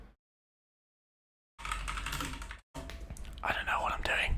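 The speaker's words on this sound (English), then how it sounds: "I'm just pressing random keys" Random keys pressed on a computer keyboard while a website is being built, a burst of close, busy clicking that halts briefly, then resumes with dense tapping.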